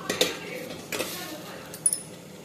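A metal idli plate filled with Kerala matta rice batter is set into a steamer pot of boiling water, giving a few sharp metallic clinks and clatters with brief scraping between them.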